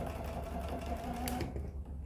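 A sewing machine stitches fabric down while sewing a pocket bag, running as a steady close buzzing whir for about a second and a half before slowing and stopping.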